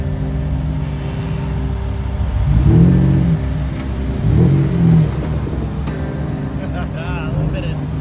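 An off-road rock crawler's engine idles steadily, then revs twice in short bursts as the wheels hop, a moderately close mechanical rumble with faint voices in the background.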